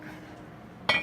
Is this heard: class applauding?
no